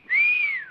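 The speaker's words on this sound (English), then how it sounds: "Ernie can blow the whistles" A single whistle blast from a radio comedy play rises, holds a steady bright tone for most of a second and trails off, close and clear with no talk over it.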